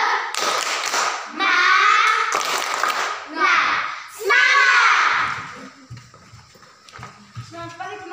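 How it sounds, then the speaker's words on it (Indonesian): A school class does a short rhythmic encouragement clap in unison, several sharp patterned bursts, followed by children's voices speaking in the classroom. "Tepuk semangat dulu untuk Eksan."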